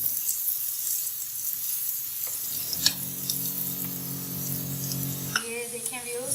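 Garlic, ginger and onion frying in a pan for chicken macaroni, a loud close sizzle with stirring scrapes, joined midway by a steady hum and then a sharp hiss, a voice talking over it.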